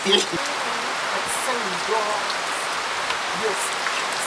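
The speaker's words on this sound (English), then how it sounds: "Yes, it's raining." Steady rain patters on a surface as a continuous wash of hiss, with faint voices murmuring underneath.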